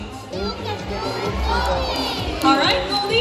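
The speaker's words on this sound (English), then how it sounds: "If you believe in Goldie, let me hear you cheer." Audience at an aviary bird show in Ocean Park Cebu cheering on Goldie the macaw, a loud mixed crowd with many children shouting and calling out together, sustained and swelling near the end.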